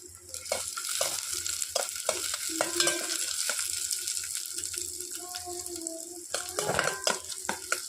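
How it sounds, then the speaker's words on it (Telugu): Cashews, almonds, coconut pieces and raisins sizzle lightly in ghee in a home kitchen, a steady soft frying hiss broken by repeated scraping and stirring clinks of a spoon against the pan. "జీడిపప్పు బాదం పప్పు కొబ్బరి ముక్కలు కిస్మిస్ పళ్ళు నేను లైట్గా ఫ్రై చేస్తున్నాను"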